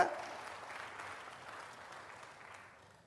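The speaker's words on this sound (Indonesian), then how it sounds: "Tepuk tangan bagi Allah kita." A church congregation claps together at a sermon, a broad, fairly distant wash of applause that starts strong and slowly fades away, with no voices over it.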